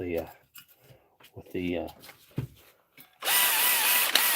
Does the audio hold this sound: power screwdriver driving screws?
yes